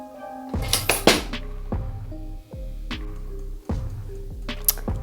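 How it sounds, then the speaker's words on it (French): Food being put into a toaster in a home kitchen, heard as a run of close clinks and clatters of dishes and metal, with several sharp knocks spaced through the moment and no talking. "Donc voilà, je le mets dans le grille-pain"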